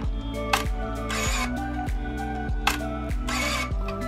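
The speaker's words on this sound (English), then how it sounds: "you can hear that the shutter is changing to slow shutter" Repeated mechanical shutter clicks from a Pentax SF10 film camera firing at slow shutter speed, at a steady slow pace, each with a buzzing whir between, close up with no talking.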